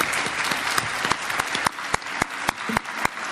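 Conference audience at an opening plenary session gives warm applause, a steady wash of many hands clapping with a few sharp, distinct claps standing out near the microphone.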